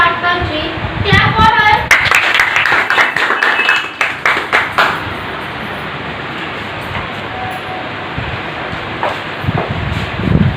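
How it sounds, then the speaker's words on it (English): Students clapping at an Independence Day celebration, a loud burst of close hand claps in the first few seconds, then fading to a quiet room with a few scattered claps near the end. "Clap for her."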